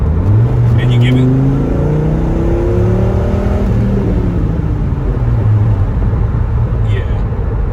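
A Dodge Viper's V10 engine roars loudly up close, pitch climbing and falling through several rising sweeps over a constant heavy rumble, with brief voice sounds near the start and end.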